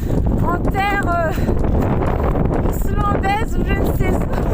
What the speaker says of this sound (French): Il y a du vent, de la pluie neige, à 25 mètres.